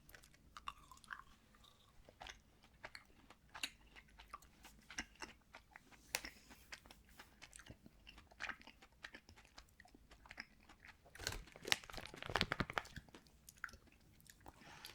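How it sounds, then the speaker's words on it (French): Chewing on vegan candy, close soft crunches and sticky chews in an uneven rhythm that grow busier toward the end, with no talking. "Je vais quand même en goûter un autre pour voir."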